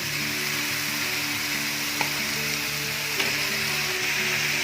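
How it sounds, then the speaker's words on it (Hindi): Chicken mince sizzling and frying in a pan with onion, tomato and green chilli paste, a steady loud hiss with a couple of brief stirring clunks, no voices. "अभी हमारे पास जो कीमा है वो ऐड कर देते हैं इसमें"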